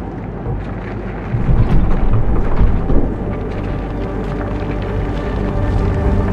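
Thunderstorm in the video game Fort Solis, a loud rumble of thunder swelling and fading over steady rain and wind.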